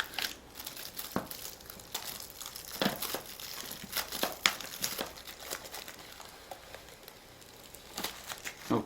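Heavy duty plastic Blu-ray case packaging for Transformers 3D crinkles and crackles while being handled up close, with irregular bursts of rustling and sharp clicks spread across several seconds.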